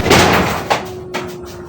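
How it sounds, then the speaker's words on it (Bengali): A door in a house is slammed shut, giving a loud close thud followed by a second, softer knock as it bangs again, with a steady hum underneath. "দরজাটা লাগাইলাম দরজাটা আবার খুলে গেছে"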